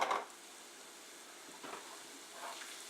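Ham and minced garlic sizzle in a frying pan, a steady soft hiss with a few brief stirring scrapes, close and fairly quiet, with no voices.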